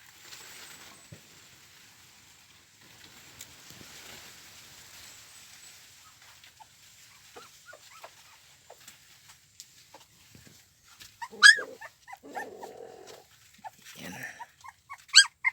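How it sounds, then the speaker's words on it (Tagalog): A dog and her puppies at a rural home make faint, scattered yelps and whimpers, which grow a little more frequent toward the end over a quiet background. A person speaks briefly. "Tapos yung aso, ayan po, may anak yung aso nila dito."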